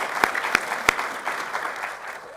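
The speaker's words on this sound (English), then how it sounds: "Let's give them a warm round of applause" Warm applause from a morning gathering honoring a team, a steady wash of clapping with a few sharper claps standing out near the start, holding evenly to the end.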